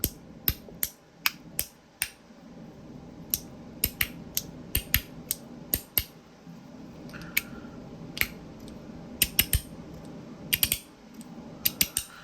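Sharp, crisp clicks from a T-One Slider fidget toy, some single and some in quick bursts, spaced unevenly over a faint background hum, close to the mic with no voices.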